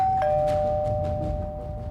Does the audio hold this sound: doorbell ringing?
yes